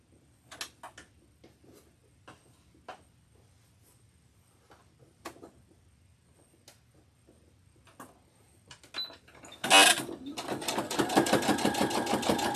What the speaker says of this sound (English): I'm just going to sew it on the sewing machine in 2 places